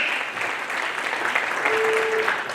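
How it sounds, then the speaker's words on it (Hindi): An audience at an indoor welcome-and-speech gathering in Tatanagar gives a sustained round of applause. The clapping is dense and steady and fills the whole stretch at full volume. "जोरदार तालियां ओम प्रकाश के लिए"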